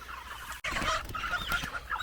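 Several chickens clucking close by on a farm during processing day, a busy overlapping chorus of clucks and short squawks as they are placed into crates, with a brief dropout early on.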